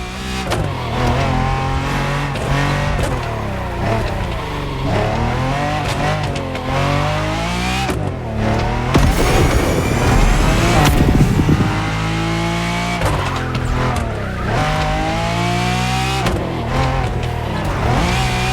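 A Lamborghini Ascenso race car in The Crew Motorfest on the Hanama racetrack roars loud and close, its engine climbing and dropping through repeated gear shifts with revving surges and brief tire squeal, and no voices.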